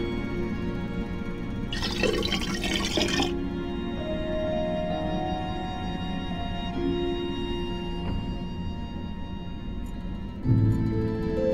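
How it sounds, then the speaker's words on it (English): Water poured from a vessel in the Black Mirror III adventure game, a short splashing gush of about a second over a quiet, humming room ambience, followed by faint drips and a small clink near the end. "I'll just pour in a bit of water."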